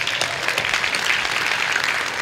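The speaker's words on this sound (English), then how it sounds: "give yourselves like a really nice round of applause" Keynote audience gives itself a round of applause, a dense, steady clatter of many hands clapping at close range, loud and continuous with no speech over it.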